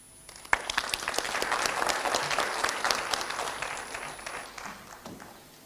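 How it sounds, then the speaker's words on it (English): A crowd applauding steadily for several seconds, dense and full, then gradually thinning out toward the end. "Another round of applause for him."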